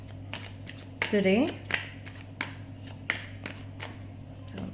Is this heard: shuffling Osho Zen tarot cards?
yes